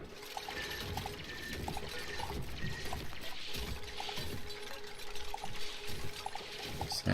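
Polluted water being dumped in the game Oxygen Not Included, a continuous splashing, pouring wash with faint repeating clicks of interface tones over it, moderately quiet and steady, swelling slightly toward the end.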